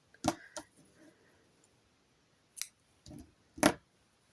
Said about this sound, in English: then chain 1, and then cut your yarn.